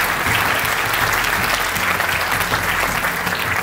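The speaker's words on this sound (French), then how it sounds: "Merci d'applaudir ces 5 grandes et grands professionnels." Sustained applause from an audience at a French real estate awards ceremony for five nominated professionals, dense and steady clapping that fills the whole stretch at close range with no voices over it.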